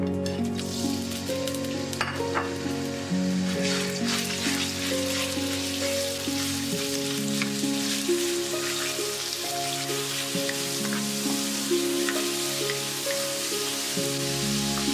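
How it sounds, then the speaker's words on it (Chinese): Meat slices sizzle and stir-fry in hot oil in a wok, a steady, close crackling fry lasting throughout with scattered spatters and no talking. "起锅烧油，油热后放入肉片翻炒"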